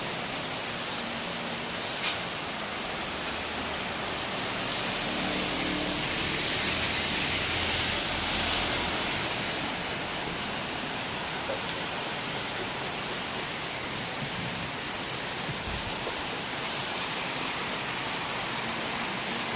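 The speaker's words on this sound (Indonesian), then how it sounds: "Hujan angin guys." Heavy rain pours steadily at night in a village neighbourhood in Tarakan, a dense, even hiss with a gusty wind undertone, constant and fairly loud throughout with no voices.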